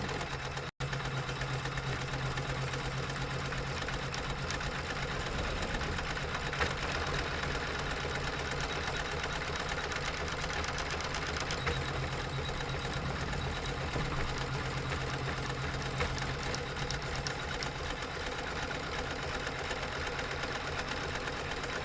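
A sewing machine runs steadily through satin stitching on yellow edging, a continuous close whirring hum that holds even and unbroken from start to finish, with no voices over it.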